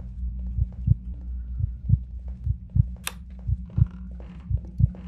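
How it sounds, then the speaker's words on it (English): Steady, looping heartbeat effect from a Dead by Daylight–style horror game, a low thumping pulse of about two beats per second running throughout, with a brief higher hiss midway and faint game noise behind. "I still can't get rid of this stupid heartbeat"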